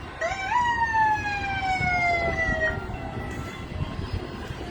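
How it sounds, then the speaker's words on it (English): A police boat's loud siren wails with falling tones over a rumbling background, sounding from a moderate distance and then fading, during a cruise ship sailaway. "That was the police boat giving us a Sailaway friendly siren."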